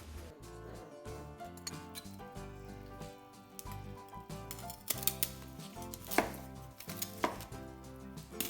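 A knife cuts through the crispy smoked rind of a pork roast, giving a run of close, sharp crunching cracks in an irregular rhythm. Some of the cracks are louder and stand out, and no one speaks over them.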